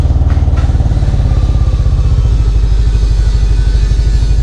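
A Yamaha Aerox scooter engine idles close by with a steady, loud putter throughout, its pulses even and unbroken for the whole stretch.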